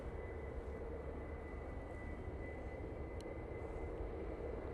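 A British Airways plane at Manchester Airport gives off a steady, distant jet roar that holds at a constant level throughout.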